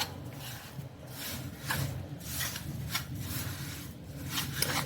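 Coconut macaron cookie ingredients being stirred in a bowl, soft repeated scraping and rubbing strokes, quiet and close with no voice.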